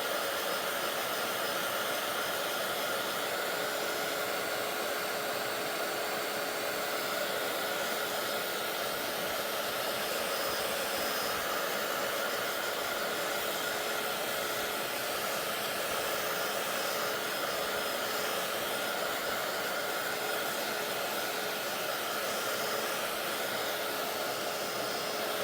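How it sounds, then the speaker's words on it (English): A hair dryer blows in a constant, loud whooshing whir that holds steady throughout with no pauses or talking, drying decoupage. "I'm gonna push this along a little bit and use my blow dryer."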